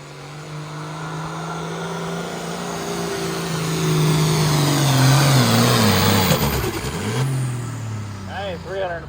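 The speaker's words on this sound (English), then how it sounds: "That there's a John Deere engine," A tractor pull truck with a John Deere engine, competing at the Catfish Days truck and tractor pull in Potosi, Wisconsin, roars loudly and close, its revving swelling to a peak midway and then easing off.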